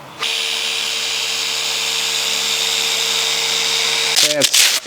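A machine polisher works over car paint before a ceramic coating goes on, giving a loud, steady, even whine for about four seconds before it winds down into a brief clatter at the end.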